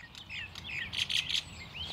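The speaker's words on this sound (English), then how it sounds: "We really love the birds here because we need them" Small birds chirping and calling in a flowering orchard fitted with birdhouses, bursts of bright tweets repeating at moderate distance over a soft outdoor background, with no talking.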